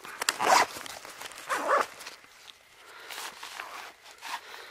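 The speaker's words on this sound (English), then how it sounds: "Let me zip this up real quick." Zipper closing up on an Osprey Rev 6 hydration pack, a few quick raspy pulls close by, with short pauses between strokes and some handling noise.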